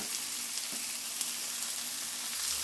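Peppers, onions, garlic and hamburger sauté in a hot pan with a steady, close crackling sizzle and small pops, continuous and undisturbed by talking.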